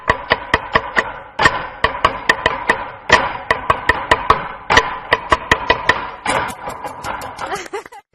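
Rapid, rhythmic knocks of knife blades drumming on a wooden chopping board in a Nanta percussion performance, close and loud, in quick bursts with brief pauses.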